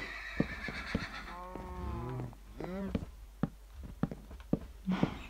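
A horse in an Xbox One video game neighs and whinnies in two drawn-out wavering calls, with scattered hoof-like knocks and clicks around them and no speech.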